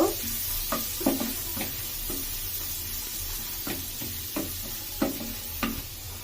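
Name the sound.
carrots frying and stirred in pan for fried rice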